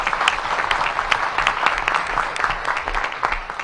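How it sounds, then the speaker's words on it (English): Audience applause fills a venue at a Washington DC mayoral presentation of the fiscal year 2026 budget, a dense, steady wash of many hands clapping at fairly close range with no voices over it. "Give Glenn Lee a big round of applause."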